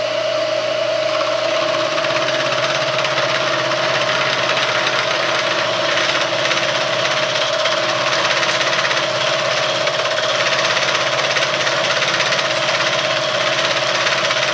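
A metal lathe takes a full-depth cut of about 150 thousandths on the tool post, giving a loud, continuous grinding roar with a steady whine held throughout, with no talking.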